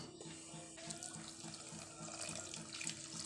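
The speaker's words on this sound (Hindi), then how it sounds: "अब ये वाला पूरा कप मैं डाल रही हूँ पानी का" Water pours steadily into a pan of crushed jaggery for a syrup for bajra roti, a continuous close splashing stream with no talking.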